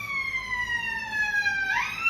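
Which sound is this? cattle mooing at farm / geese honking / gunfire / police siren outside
police siren outside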